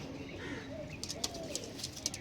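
Soft, low pigeon cooing repeats close by, with faint chirps and light clicks or rustling scattered through the quiet background.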